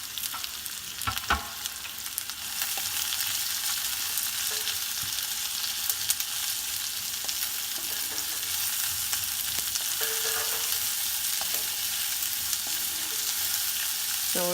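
Chopped onion, green chilli and cumin sautéing in oil in a pan for a sprouts curry, a continuous sizzle that steps up after a couple of seconds, with occasional spoon scrapes and taps throughout.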